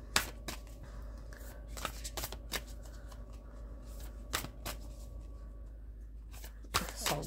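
Oversized tarot cards being shuffled by hand, quiet papery riffles and sharp snapping slaps recurring irregularly at close range, with no talking.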